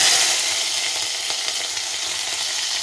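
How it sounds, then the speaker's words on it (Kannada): Cumin and green chillies fry in hot oil, giving a steady, close sizzle with a hissing crackle that fades slightly over a few seconds, with no voices. "ಜೀರಿಗೆ, ಎಣ್ಣೆಲಿ ಬೆಂದರೆ ಹಸಿಮೆಣಸಿಕಾಯಿ ಖಾರ ಚೆನ್ನಾಗಿ ಬಿಡುತ್ತೆ."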